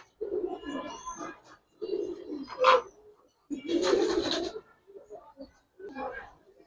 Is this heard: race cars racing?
no